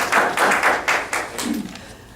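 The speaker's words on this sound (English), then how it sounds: "give you a round of applause for all your hard work" Small group at a town council meeting clapping for pool staff, a short burst of a handful of distinct, close claps that thins out and fades after about a second and a half.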